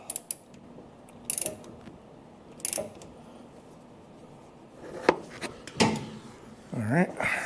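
Ratchet tightening a steering column bolt on a 1957 Chevrolet Bel Air, heard as a few short bursts of clicking spread across a quiet workshop, with a louder clatter and rattle near the end.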